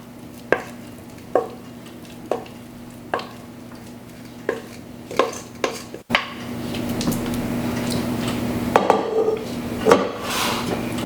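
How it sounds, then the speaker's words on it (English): Oat batter is scraped and spooned from a bowl into a greased baking tin, with intermittent utensil clinks against the dish followed by a denser stretch of scraping and soft thuds over a low hum. "Put the batter into the tin."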